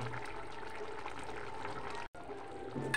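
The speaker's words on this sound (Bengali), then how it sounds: "ঝোল ফুটে গেছে" Fish curry broth bubbles in a pot, a steady watery churning and gurgle close by, continuous apart from a momentary cut near the end.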